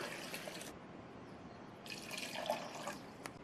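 Two cups of water poured into a juicer jar holding pomegranate, beetroot and carrot, heard as two quiet bursts of running, splashing water separated by a pause.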